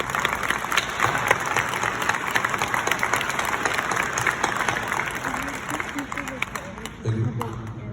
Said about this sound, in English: how about a round of applause for the teachers of Bellevue Academy?